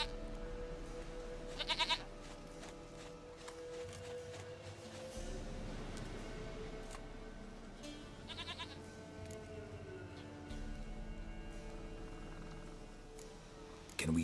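A goat in the video game The Witcher 3 bleats twice in short, quavering calls, one early and one midway, over quiet ambient game background with soft low tones in between.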